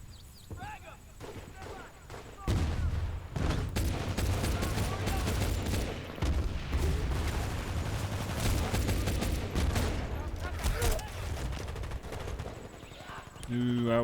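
Dense gunfire and battlefield noise in the Medal of Honor beta demo, a loud continuous barrage of shots and bursts with a voice speaking over it.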